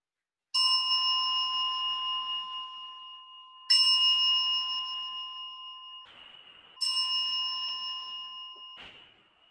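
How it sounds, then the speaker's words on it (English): Three strikes of a meditation bell, each a clear ringing tone that sustains and slowly fades before the next, evenly spaced with no voices. "I'm going to invite you to pause the sound of a bell"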